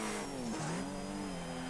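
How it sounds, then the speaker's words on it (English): Race car engine from the video game ToCA Race Driver holds a steady high drone, its pitch dipping briefly as the revs drop, then climbing and settling again, loud and alone. "Ooh, the revs dropped there."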